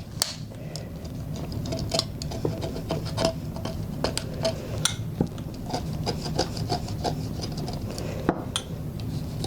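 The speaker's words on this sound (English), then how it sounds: "scrape off the edges of the resin, wherever that is" Someone scrapes resin off the edges of a glass bottom, a close series of short, gritty rasping strokes with scattered sharper scratches, steady throughout with no talking.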